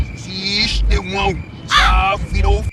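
Crows caw loudly and close by on a summer holiday in Finland, in several harsh, rasping calls with short gaps between them.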